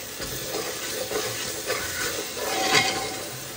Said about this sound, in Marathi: आतां न्हू बरी आमी हेका मसाल्याक आमी फोंड मारया